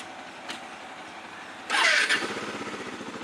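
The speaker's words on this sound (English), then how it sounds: "Let me start this vehicle as well." A motorcycle engine in neutral cranks and catches at about 1.7 seconds, then settles into a steady, close idle after a quiet stretch with a brief click near the start.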